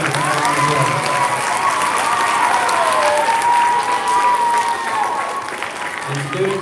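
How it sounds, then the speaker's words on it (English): Loud, sustained applause from a crowd at an elementary school veterans program, with a voice speaking over the clapping from close by as it carries on. "one more time, round of applause"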